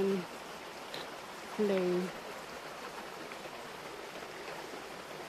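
A flowing stream runs as a steady, broad rushing hiss in the background, while a person speaks briefly over it near the start.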